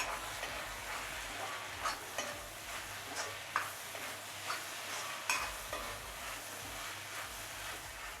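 Chopped tomatoes being stirred into onions frying in a pan for a Kerala-style roasted-coconut chicken curry, giving a steady soft sizzle with repeated scraping stirs at close range.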